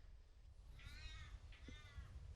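Crow cawing from a tree beside a bay during a match racing regatta, two harsh drawn-out caws a short way off over steady wind and water noise, with no talking.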